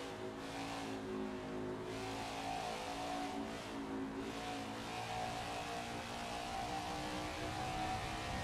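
A stock car engine in the NASCAR 21 Ignition racing game at the Nashville oval, a sustained loud droning roar with slight pitch shifts as it holds speed, steady and close, no talking.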